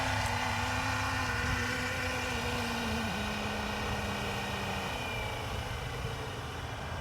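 A FLY WING Bell 206 V4 RC helicopter, custom built, comes down to land, its steady motor and rotor whine holding constant with a pitch that drops slightly partway through, loud and close throughout with no talk.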